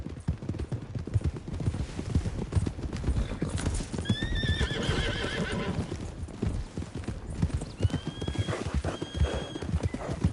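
Video game horses clop along at a steady walking rhythm, their hoofbeats close and clear, while two whinnies rise over the footsteps partway through.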